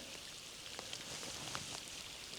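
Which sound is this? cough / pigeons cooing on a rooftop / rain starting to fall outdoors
rain starting to fall outdoors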